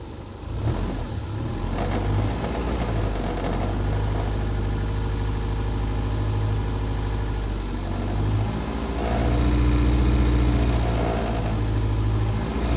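A car engine idles steadily with a low, even rumble, then its revs rise for a few seconds before settling again.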